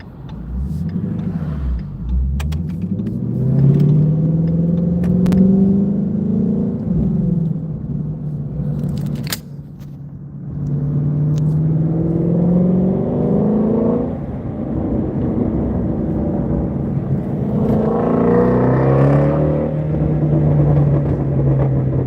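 Ford Shelby GT350 V8 heard nearby with a deep rumbling idle and repeated throttle blips, rising and falling revs over about twenty seconds, loud and steady with no talk.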